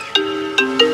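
A mobile phone ringtone plays three quick electronic chime bursts, each followed by a sustained tone, loud and close with no talking.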